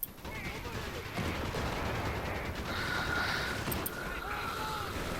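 Rapid machine gun fire in Company of Heroes 3, a World War II strategy game, rattles continuously over dense battle noise with other gunfire mixed in, under a commentator's talk.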